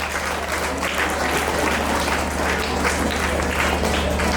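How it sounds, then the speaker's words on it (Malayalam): An audience claps steadily at a church prize distribution at Japamalaranji Church, Cherai, for a science fair runner-up. The dense, even applause sits over a low electrical hum. "എല്ലാവരും കൈയടിക്കും."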